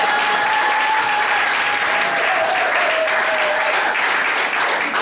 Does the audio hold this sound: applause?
yes